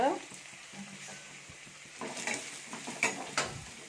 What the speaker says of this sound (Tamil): இப்போ வெங்காயம் நல்லா வறுத்துடட்டும்.